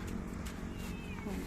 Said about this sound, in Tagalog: Ayan pa yung pusa pa eh.